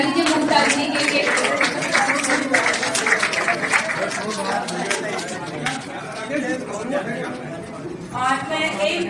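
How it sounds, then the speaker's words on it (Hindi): An audience at a Hindi children's poetry book launch ceremony claps in a steady burst that fades gradually, with chatter and voices running underneath throughout. "जोरदार तालियां बजा दीजिए मुमता जी के लिए।"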